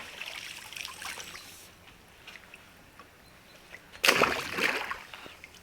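A released carp hits the water with a single sharp splash near the end, loud and close against quiet outdoor ambience with faint trickling water.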